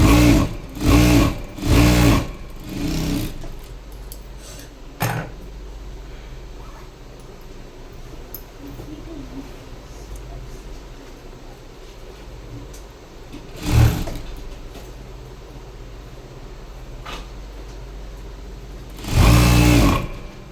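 A sewing machine stitches a lightweight high-neck blouse in several loud whirring bursts, some quick and repeated, separated by long quieter stretches, with a few clicks between them.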